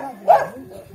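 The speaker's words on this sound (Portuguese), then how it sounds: "Os cachorros estão tudo latindo." One short, close dog bark stands out against a quiet background.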